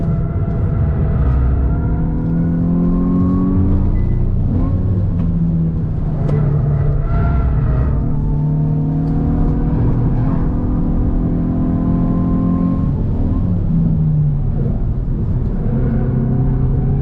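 A 2022 Hyundai i20 N under hard acceleration, its engine rising in pitch through repeated climbing sweeps, with brief dips between gears, loud and close from the cabin.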